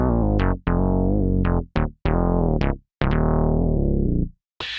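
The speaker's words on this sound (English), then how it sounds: "We got a bass sound. This is called tight owl bass or tight owl bass" Synth bass patch with a fat, Moog-like analog tone plays a short riff of loud, punchy notes, some clipped and some held, with brief gaps between them and no voices.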